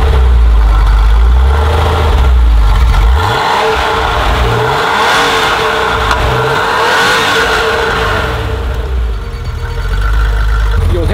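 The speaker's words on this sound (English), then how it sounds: "You'll notice from the sound of the car that it sounds quite substantially different to any other normal car because it's air-cooled" An air-cooled Porsche 993 with its M64 flat-six engine idles loud and close, then rises and falls through several revs with a deep, throaty drone, while someone talks over it.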